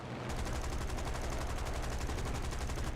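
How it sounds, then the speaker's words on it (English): Rapid automatic gunfire in an arcade-style air combat game, a fast, even stream of shots that starts abruptly and continues steadily at moderate volume. "Shooting, shooting, missing, missing."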